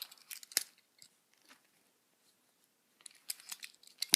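Small scissors on a Swiss Army knife being opened and handled, giving a few short metallic clicks and snips near the mic, with silence in between and no talk.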